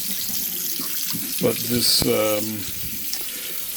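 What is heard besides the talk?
kitchen sink faucet spraying water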